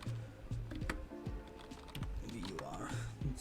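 Computer keyboard typing while entering menu text in Microsoft Word, a quick run of faint clicky keystrokes, close and soft, with some low background sound.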